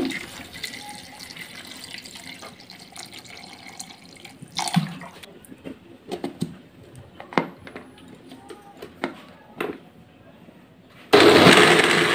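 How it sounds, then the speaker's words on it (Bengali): Cold water poured into raw mango juice sweetened with sugar and salt, giving a soft intermittent splashing and trickling with small clinks, ending in a louder rushing pour. "আমি এখন ঠান্ডা জল দিয়ে দিচ্ছি।"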